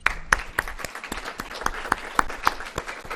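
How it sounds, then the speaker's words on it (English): Sparse applause from a small audience at a university reception, a light patter of individual claps with a few sharper claps standing out, fairly faint and brief. "We'll give a hand of applause here."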